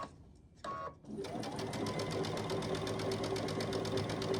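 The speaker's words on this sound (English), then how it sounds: "I'm sewing everything at 1/4 inch." A sewing machine stitches small quilt scraps at a quarter-inch seam, starting after a brief pause and then running in a fast, even, rapid-fire chatter close by, with no voices.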